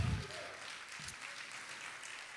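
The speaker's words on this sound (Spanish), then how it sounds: "Un aplauso fuerte al Señor." Faint, steady applause from a church congregation fills the whole stretch, distant and even, with a brief low thump at the very start.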